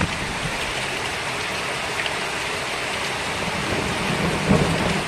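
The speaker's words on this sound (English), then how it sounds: "guess how hard it's raining outside" Heavy rain pouring down outdoors, a dense, even hiss of drops drumming on surfaces at close range with a low rumble beneath, continuous throughout.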